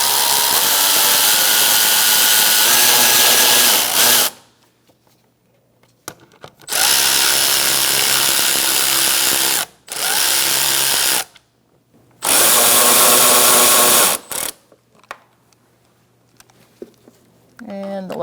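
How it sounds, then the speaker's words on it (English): A power tool tightens transmission mount bolts on a 2012-2018 Ford Focus, several loud whirring bursts of a few seconds each, separated by quiet gaps with small clanks. "Once you get it lined up, you can tighten down your bolts."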